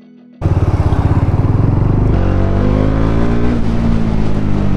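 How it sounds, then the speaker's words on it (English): A Bajaj Dominar 400 BS6 motorcycle engine on a road test ride roars up loud and close after a brief quiet start, holding a steady throbbing drone with rising and shifting pitch as it pulls through the gears. "The engine is very very smooth."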